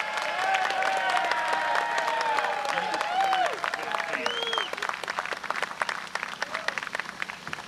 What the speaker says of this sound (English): give him some clap